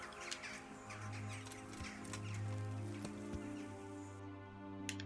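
A horse in the medieval video game Kingdom Come: Deliverance, heard as hoof clops, snorts and whinny-like calls over steady game ambience with bird sounds, moderately close and without speech.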